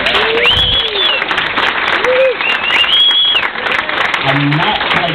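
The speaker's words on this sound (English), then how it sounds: "hopefully you'll applaud again" Wedding guests applaud a speech with steady, dense clapping that fills the room throughout, while faint voices and whoops rise above the ovation.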